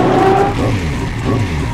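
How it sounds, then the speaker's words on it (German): A turbocharged car engine revs hard in a short, loud burst, roaring up with a squealing, gritty edge, heard close and alone. "Das ist ein Turbo!"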